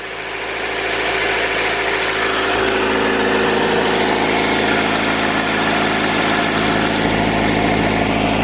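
A turbocharged JDM Honda B18C Type R engine with a GT3582R turbo, fitted in an EJ6 Civic, idles close by with a loud, steady, even drone that holds level throughout, with no voices.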